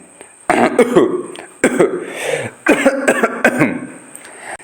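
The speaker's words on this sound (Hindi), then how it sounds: "तीसरा, जो आप क्लास में खांस सकते हैं।" Several sharp coughs in quick bursts, fairly loud and close, with throaty rasps between them and no speech.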